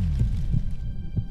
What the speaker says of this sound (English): I like how they hear the heartbeat in your ears, though